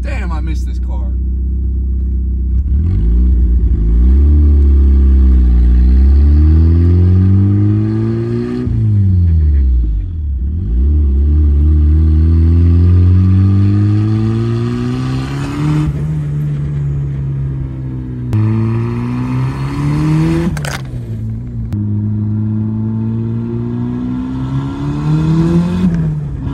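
A turbocharged Mazda Miata, back on the road after a fire, accelerates hard through repeated gear pulls, its engine note climbing in pitch, dropping at each shift and climbing again, loud and close, with occasional voices inside the car.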